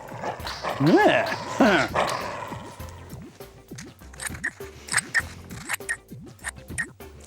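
Scissors snip a circle out of paper in a quick run of short, rhythmic cuts, close up, after a brief moment of speech.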